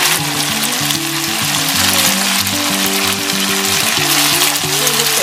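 Pork tubes frying in a pan, a loud close hiss of sizzling oil with steady bubbling over background music.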